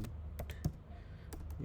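A few soft, separate keystrokes on a computer keyboard while a ChatGPT prompt is typed, quiet and close, with no talking.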